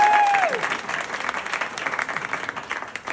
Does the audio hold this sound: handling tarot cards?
no